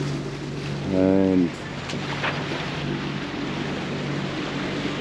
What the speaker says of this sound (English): We have now this moment the port side engine on